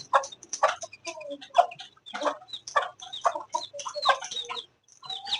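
A hen clucks agitatedly alongside her chicks' high peeping in a coop, with short repeated calls and chirps coming close and fairly loud in uneven bursts.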